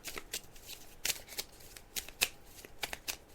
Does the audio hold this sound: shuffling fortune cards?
yes